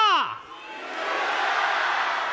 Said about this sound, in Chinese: 观众们一起呼喊